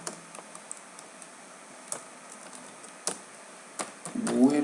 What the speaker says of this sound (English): So if we type something here like